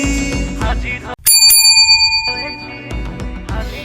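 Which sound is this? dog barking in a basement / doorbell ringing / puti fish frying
doorbell ringing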